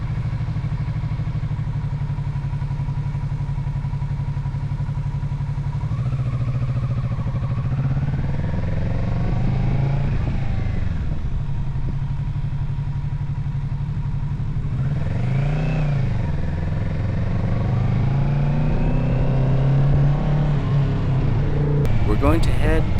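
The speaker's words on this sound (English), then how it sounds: "Time for the whole song and dance required for refueling my motorcycle, so I've sped it up to shorten the sequence." Kawasaki Z650RS motorcycle, a 2024 model, at gas pumps during refueling, heard sped up: a steady engine idle with rising and falling revs, clatter and pump noises, fairly close and continuous.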